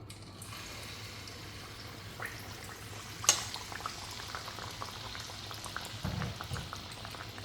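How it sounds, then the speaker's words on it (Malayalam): Egg surka batter goes into hot oil and fries with a faint, steady bubbling hiss, heard alone with a soft knock partway through. "എണ്ണ ചൂടായി, അതിലേക്ക് മാവ് ഒഴിക്കാം."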